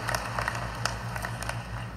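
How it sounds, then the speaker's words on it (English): A gathering greets a speaker called Brother David with applause, a brief patter of scattered claps over a steady low hum, with a voice briefly rising above it. "Receive him with a warm round of applause."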